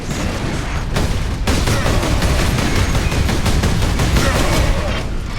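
Heavy automatic gunfire cutting down zombies in Warhammer 40,000: Space Marine, a continuous loud barrage of rapid overlapping shots with a short sharper burst near the start, steady and close throughout.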